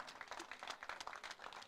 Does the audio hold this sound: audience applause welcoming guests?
yes